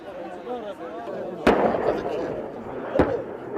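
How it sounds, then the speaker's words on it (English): Two sharp, booming reports of small arms and heavy weapons fire burst out over a steady rumble and chatter, with a voice talking underneath throughout. "The noise of small arms and heavy weapons cuts through the sky."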